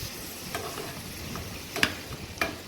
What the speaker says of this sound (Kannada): ಫ್ರೈ ಮಾಡಬೇಕು. ಸ್ವಲ್ಪ ಎಣ್ಣೆ ಹಾಕ್ಕೊಂಡು ಇದು ಸ್ವಲ್ಪ ಲೈಟಾಗಿ ಕೆಂಪಾಗಿದೆ,